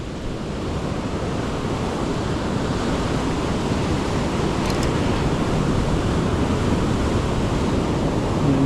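Ocean surf breaks steadily on the shore during beach fishing, a loud and continuous wash of waves with wind noise on the microphone.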